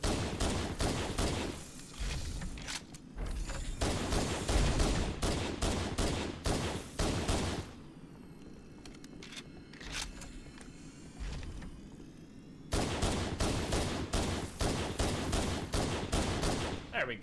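Rapid bursts of video game gunfire in Halo, long stretches of dense automatic fire broken by a quieter gap with scattered single shots, loud and close throughout.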